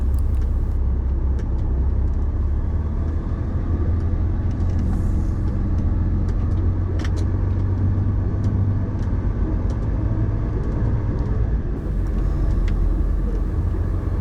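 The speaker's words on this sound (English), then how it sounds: "this car is waiting to get out and I'm blocking the road" A car's engine idles steadily near a rail depot in Edinburgh or Glasgow, a close, continuous low rumble that holds level for the whole stretch with no voices over it.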